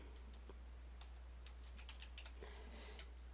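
Faint, close typing on a computer keyboard, a few scattered light key clicks over a low steady hum, with no voices.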